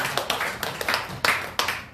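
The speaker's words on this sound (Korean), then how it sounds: "다시 한번 감사와 축복의 박수를 드리겠습니다." A church congregation gives a short round of clapping of thanks and blessing, with distinct, fairly loud claps in an uneven rhythm close by, several standing out sharply.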